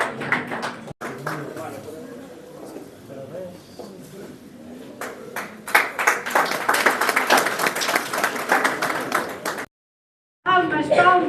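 Applause at a graduation ceremony for the first journalism graduates: scattered clapping from an audience under ongoing speech, building to denser clapping before a brief cut, then clapping resumes.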